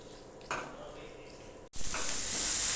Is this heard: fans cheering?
no